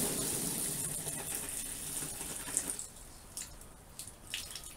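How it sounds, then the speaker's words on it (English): Water from a manual well pump on a sand spike gushes and splashes steadily for a few seconds, then stops, leaving scattered drips and trickles; close and fairly quiet, no talking. "I've got this manual pump here connected to a sand spike deep underground"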